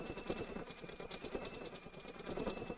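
A Brother PR1X embroidery machine stitches a design onto a jacket with a quiet, rapid, steady mechanical chatter and buzz, continuing without pause.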